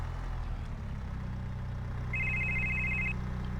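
A telephone rings in the farming game Farming Simulator 22, one bright trilling burst of about a second standing out clearly above a low rumbling engine hum.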